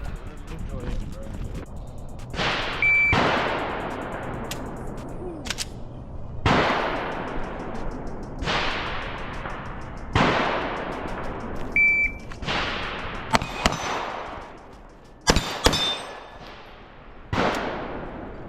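A Glock pistol fires a series of loud, sharp shots in quick bursts, each crack ringing out and decaying, with a couple of electronic beeps among them and a voice briefly talking between strings.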